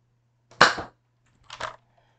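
Two shots from a Zuru X-Shot Insanity Manic toy blaster ring out close and crisp, a sharp snapping pop followed about a second later by a softer one, against near silence.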